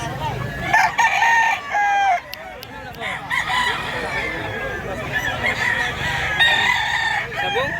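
A rooster crows several times nearby, its drawn-out calls standing clear over an outdoor backdrop with faint clucking from other chickens in Mantalongon, Barili, Cebu.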